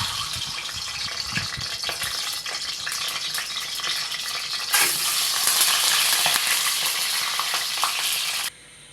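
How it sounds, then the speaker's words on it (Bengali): Eggs frying in hot oil in a wok, a loud steady sizzle with stirring clatter that jumps to a fuller, hissing crackle partway through before cutting off abruptly; no voices. "এখন আমি ডিমগুলো দিয়ে দেব।"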